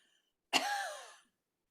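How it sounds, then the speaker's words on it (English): A single deliberate cough from the back of the throat during a creative dance class, one short rasping burst lasting under a second, close and isolated in otherwise near-silent surroundings. "Big cough from the back of your throat."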